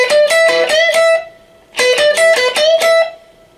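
Electric guitar lick in a blues style, two phrases of picked notes with unison string bends, each phrase about a second long and separated by a brief pause, played clearly with no talking.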